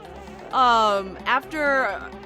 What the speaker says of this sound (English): they start putting bees around the beehives, and they swarm you like crazy